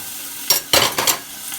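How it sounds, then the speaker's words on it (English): A roast sears in a hot pan and is flipped, giving a loud burst of sizzling and a few sharp crackling surges against a quiet background hiss. "We're going to flip this again, because we're browning different sides of it."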